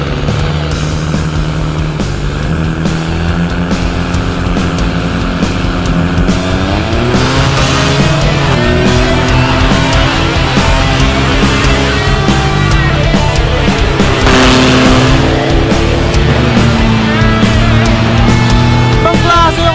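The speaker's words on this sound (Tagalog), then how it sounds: "Ibang klase yung Hilux, parang all-wheel drive umalis" A Toyota Hilux diesel pickup launches hard in a drag race, engine roaring loud and continuous as it revs and shifts, with crowd noise and a commentator's voice mixed underneath.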